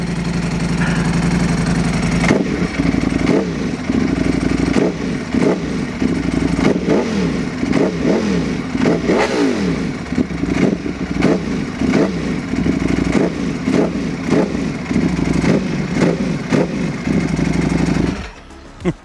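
A Ducati motorcycle idles loudly up close with a rattly, lumpy rhythm, punctuated by several sharp revs of the throttle before cutting off at the end.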